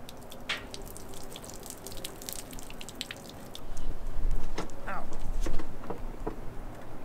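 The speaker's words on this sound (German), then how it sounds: "indem wir heißes Wasser übers Plastik kippen" Hot water is poured over plastic, giving a quiet trickle and scattered drips that swell into a fuller, splashier pour toward the end.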